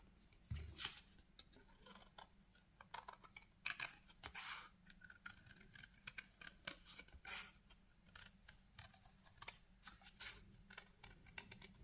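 Scissors snipping paper around a paper roll for a small craft project, a quiet series of irregular close cuts and rustles with no talk.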